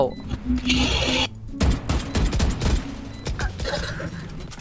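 Gunfire in the Valorant video game arrives as dense, punchy bursts mixed with mechanical clicks and clatter, loud and close, with someone talking excitedly at times.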